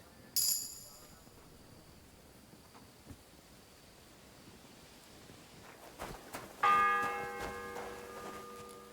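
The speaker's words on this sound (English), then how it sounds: "The 6th bell." Church bells ring in the medieval world of the video game Kingdom Come: Deliverance 2, with one strike early and a louder, sustained peal near the end over soft rainy ambience and faint footsteps.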